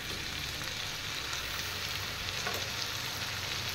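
Ginger garlic paste fries and sizzles steadily in a pan, with a constant loud hiss and occasional soft scrapes as it is stirred, no voices present.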